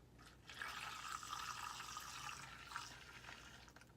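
A beauty blender washing machine spins sponges in water, giving a steady whooshing, sloshing churn that holds at a fairly even level for several seconds with no voices over it.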